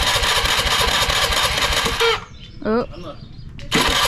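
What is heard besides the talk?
motorboat engine starting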